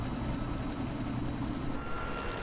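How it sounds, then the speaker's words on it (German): A helicopter in the video game Quantum Break gives a steady whirring rotor drone with a faint rhythmic chop, continuous and moderately loud with no talking. "Da drüben ist ein Helikopter."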